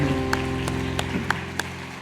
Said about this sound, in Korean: 다시 한번 큰 박수 부탁합니다.